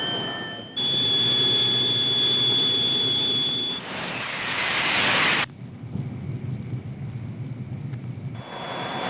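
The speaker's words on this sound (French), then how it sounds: "Un turbotrain. TGV très grande vitesse" SNCF TGV 001 gas-turbine turbotrain running, a loud sustained roar with a high whining tone that swells, then drops to a lower rumble before the whine returns.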